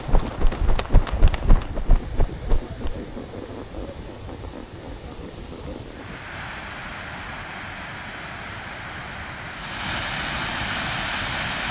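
Icelandic horses ridden at a brisk pace, a quick rhythmic clatter of hooves up close that fades after a few seconds into steady outdoor rumble and wind.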